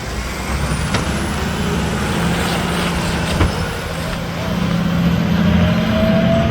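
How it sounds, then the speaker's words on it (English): A Mack McNeilus front loader garbage truck rolls past in the snow, its engine a loud steady rumble with a brief air-brake hiss partway through, while people talk over it. "There goes the truck just passed."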